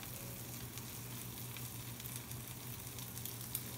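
Chicken pieces for chicken piccata sizzle steadily in a lightly oiled pan, a continuous close crackling fry with no speech.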